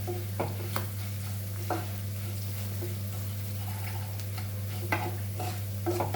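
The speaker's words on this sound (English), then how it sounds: "Let it fry for a little." Ingredients for Goan cabbage foogath fry in a pan with a steady soft sizzle under a constant low hum, broken by occasional scraping stirs and light clinks of a utensil against the pan.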